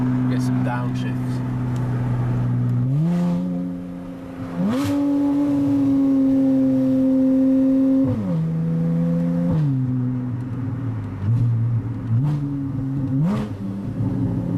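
A Porsche 981 Boxster S fitted with an Armytrix valved exhaust revs and downshifts on a drive, its engine note rising and dropping through several gear changes with crackling bursts, loud and close, with people talking at times over the engine.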